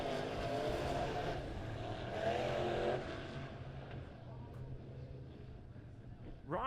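USRA B-Modified race cars on the dirt track at Springfield Raceway, a dense roar of engines held steady then swelling and fading somewhat at a distance, with a steady rumble throughout.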